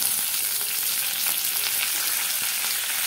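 Fennel seeds, cinnamon, onion and curry leaves frying in hot oil in a pan, a dense continuous hiss and crackle, close and steady throughout with no voices.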